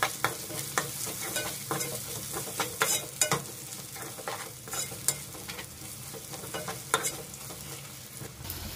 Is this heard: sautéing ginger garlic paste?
yes